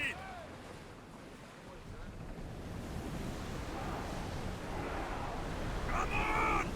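A sailing ship crosses open ocean in the video game Assassin's Creed Odyssey. Waves wash and wind rushes in a continuous bed that grows louder toward the end, with brief voices at the start and close.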